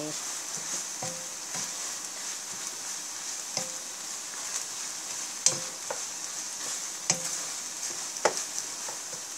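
Mala noodles with bean sprouts being stir-fried in a pan, a steady soft sizzle with scattered clanks and scrapes of the utensil against the pan.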